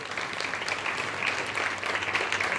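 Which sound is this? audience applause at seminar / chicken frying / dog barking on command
audience applause at seminar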